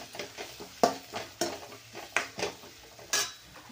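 Turmeric, red chili powder and homemade black masala sautéed in a pan, soft sizzling broken by a handful of sharp metallic spoon clinks and scrapes against the pan, fairly quiet and close.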